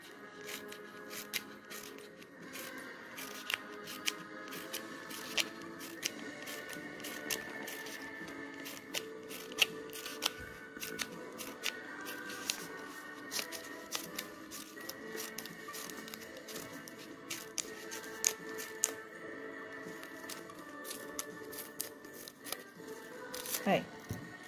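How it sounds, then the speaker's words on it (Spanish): Scissors cut through cardstock to make the pistil of a paper flower, with rapid crisp snips repeating steadily and close throughout. "Y voy a ir cortando"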